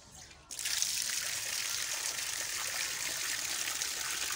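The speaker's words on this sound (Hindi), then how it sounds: "तो मैं इनको डाल देती हूँ ताज़ा पानी।" Fresh water pours into a rabbit's bowl in a steady, close stream that starts abruptly and keeps running without a break.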